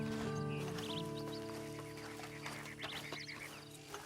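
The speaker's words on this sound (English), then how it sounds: "And you better get on this horse." A horse in the video game Red Dead Redemption 2 snorts and stirs at close range among layered game ambience, soft hoof and tack sounds scattered through the quieter second half.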